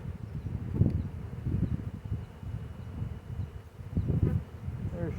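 A honey bee swarm buzzes steadily around a hive during an install and inspection, a dense, close drone that swells and fades in waves.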